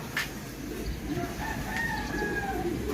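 A bird in a loft calls with a rooster-like crowing note, faint and somewhat distant over a steady background hum.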